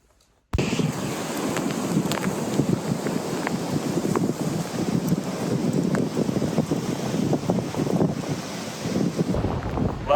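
Strong wind buffets the microphone on the wild Atlantic coast of the Côte Sauvage, with a steady roar of surf and breaking waves underneath, loud and continuous with no voices.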